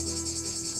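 Cicadas buzz in a steady, pulsing high drone during August heat near Genoa, continuous and fairly loud across a brief moment, with no voices.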